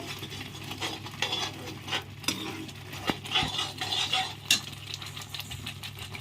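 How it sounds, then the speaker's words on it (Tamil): A spoon scrapes and stirs curry with turmeric, chilli and masala powders around a pan in irregular strokes, with clinks against the metal and a faint sizzle underneath. "நல்லா கலக்கி விடுங்க"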